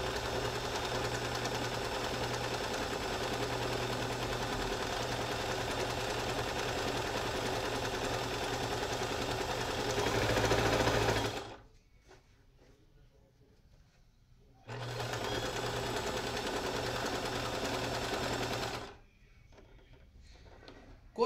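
Home sewing machine stitching elastic onto a fitted bed sheet, a steady close mechanical whir that runs for about eleven seconds, stops, then runs again in a shorter burst before going quiet.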